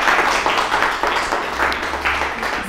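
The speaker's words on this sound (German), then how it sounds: "bitte mal einen herzlichen Applaus für einen Bildhauer" Close, lively applause from guests at a contemporary art gallery's December opening, welcoming a sculptor; brief bursts of clapping from a modest crowd, fairly loud and continuous over a low room hum.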